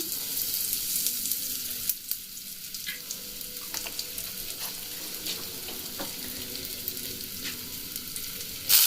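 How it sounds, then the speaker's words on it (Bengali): Nigella seeds and asafoetida frying in hot oil in a kadai, giving a steady, close crackling sizzle with a few sharp pops and light stirring clinks. "এখানে দিয়ে দিয়েছি সামান্য 2 চামচ মতো তেল, আর দিয়ে দিলাম ছোট চামচের 1 চামচ কালো জিরে, দিয়ে দিচ্ছি হিং"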